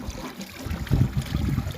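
Water gushing and splashing from a cranked manual well hand pump, starting quietly and then pouring more heavily in uneven surges.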